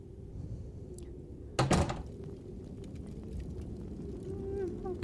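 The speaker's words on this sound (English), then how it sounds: "Doors I don't want to go through." A heavy door in a dungeon in The Elder Scrolls IV: Oblivion swings open with a single loud thunk and creaking scrape, set against a low droning ambient hum with faint tonal calls.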